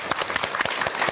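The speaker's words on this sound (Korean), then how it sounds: "그래, 박수." Brief applause from an audience at a Buddhist talk, a quick burst of clapping by a group.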